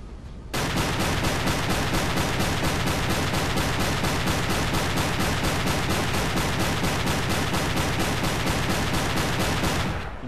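A U-boat deck gun in Silent Hunter 3 firing at a target ship: a long, loud, unbroken run of rapid evenly spaced shots that starts abruptly and holds for about ten seconds before cutting off.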